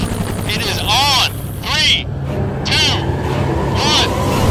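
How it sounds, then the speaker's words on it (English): Helicopter rotor and engine drone as a steady low rumble throughout, with repeated chirping, arching tones and muffled voices layered over it. "I'm in the helicopter."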